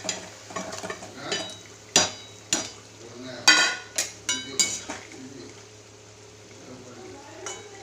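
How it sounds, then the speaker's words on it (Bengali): Eggplant goes into a bubbling pot of spiced gravy and is stirred, giving a series of sharp metallic clinks and scrapes against the pot over a low simmering background, then settling quieter. "এবার বেগুনটা দিয়ে দেবো।"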